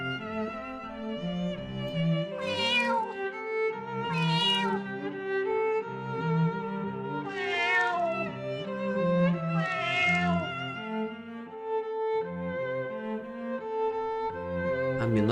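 A kitten meows repeatedly, four or five drawn-out, rising cries spread across the stretch, close and fairly clear over a steady background of sound.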